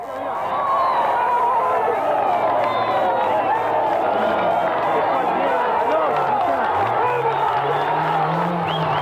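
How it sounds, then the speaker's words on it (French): Roadside supporters at the 1989 Rally Argentina loudly cheering rally driver Jorge Recalde, a dense, continuous crowd roar with shouting and voices close by, sustained throughout. "ses fidèles supporters l'acclament et l'encouragent de leur voix"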